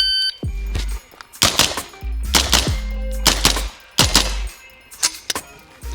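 A carbine fires while the shooter moves between positions, loud close shots in quick pairs and bursts, each with a sharp crack and boomy tail, repeating across several seconds.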